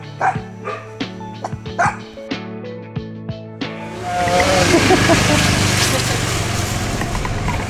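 A puppy at a homestay in Sideman, Bali barks and yips in several short, close bursts, alongside a chirping chicken; the barking then gives way to a steady wash of broadband noise like wind or a passing scooter.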